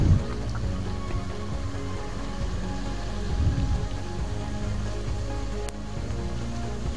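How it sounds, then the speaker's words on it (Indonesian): Light drizzle near a dam spillway, a steady broadband wash of rain and rushing water that stays loud and continuous throughout, with no talking. "Wah, gerimis."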